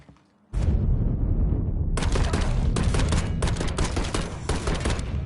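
Gunfire in the video game Mafia 3, dense loud volleys of rapid shots that keep going for nearly five seconds after a sudden start, with no talk.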